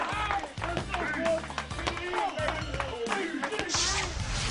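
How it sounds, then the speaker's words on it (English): A boxing dressing room full of people clapping in approval during a boxer's hand-pad warm-up, rapid irregular claps and pad smacks under chatter and a narrating voice. "while the entire dressing room claps in approval"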